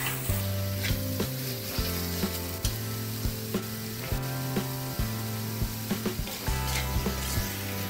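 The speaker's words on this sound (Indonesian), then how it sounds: "Tumis daging beserta bumbunya sampai layu ya, baru kita masuk santan encernya." Beef and spice paste for Padang-style rendang sizzle in a hot pan, a loud, constant frying hiss broken by regular scrapes and taps of stirring.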